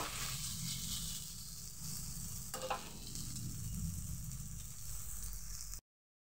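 Sabudana sizzles steadily in a wok over a low gas flame, with a brief scrape of stirring partway through, soft and continuous before cutting off.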